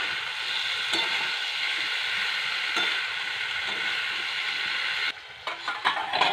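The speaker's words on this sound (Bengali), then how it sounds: "ভেজে রাখা সব সবজিগুলো দিয়ে একটু নেড়ে নেব।" Fried vegetables stirred into a rohu fish-head masala in a pan, a loud continuous sizzle with scraping strokes of the spatula that breaks off into a few uneven scrapes near the end.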